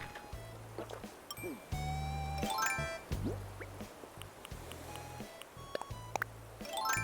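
In Animal Crossing: New Horizons, coins and bells chime and tinkle in bright, scattered bursts, layered over a repeating low game tune and soft background effects.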